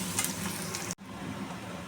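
Onions fry in a pan for a Bengali egg posto dish, a steady close sizzle with a brief stir midway.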